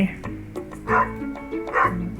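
Dog in Stardew Valley giving a few short yips and whimpering barks in quick succession, close and fairly loud, with a voice speaking alongside.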